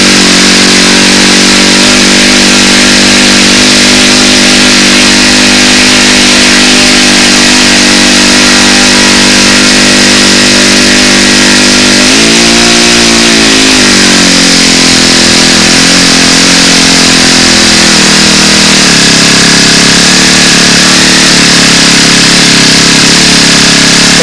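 Model airplane engine fitted with its stock muffler runs loudly and steadily, a continuous buzzing drone that shifts pitch partway through as the throttle changes, with no talk over it.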